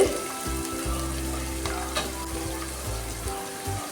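Chicken gravy masala sautéing in a pan, a steady close sizzle with scraping stir strokes recurring throughout, no talk.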